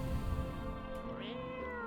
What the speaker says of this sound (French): Oh, il y a le minou!